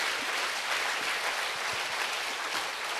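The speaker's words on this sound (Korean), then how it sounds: "자, 박수로 주님 경안 돌립니다" Steady applause from a church congregation during a Sunday service fills the room evenly throughout, with no pauses.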